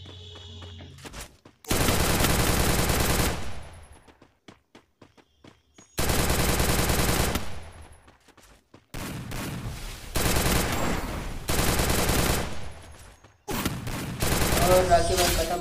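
Gunfire from the Free Fire Max video game rips out in several long, loud bursts of rapid automatic shots with short quiet gaps between them.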